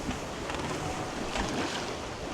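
A sailboat glides under sail at about 6 knots in 12 knots of wind on the open ocean off Dunk Island, with a steady broadband wash of water and wind rushing past.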